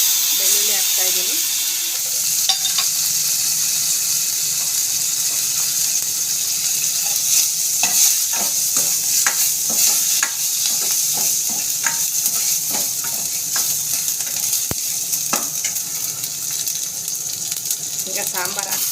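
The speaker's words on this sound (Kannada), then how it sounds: "ಸಾಸಿವೆ ಚಟಪಟ ಅಂತ ಇದೆ. ಬೆಳ್ಳುಳ್ಳಿ ಜಜ್ಕೊಂಡಿದ್ದು ಬೆಳ್ಳುಳ್ಳಿ ಹಾಕ್ತಾಯಿದ್ದೀನಿ." Mustard seeds crackle and crushed garlic fries in hot oil for a sambar, a steady close sizzle with scattered pops and a few stirring clinks throughout.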